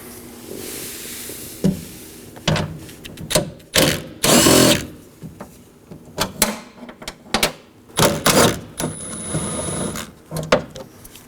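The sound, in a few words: removing window mount bolts with a 10mm tool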